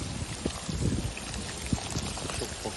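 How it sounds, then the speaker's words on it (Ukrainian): Hot water is poured onto devzira rice in a bowl to soak it for Uzbek plov, a short, close, trickling splash with a few louder gurgles. "Зараз ми його будемо замочувати гарячою водою."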